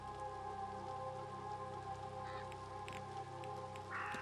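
Steady, dense rain from the horror game The Séance of Blake Manor, a continuous wash of drops falling on surfaces throughout with a faint higher chirp near the end, no voices.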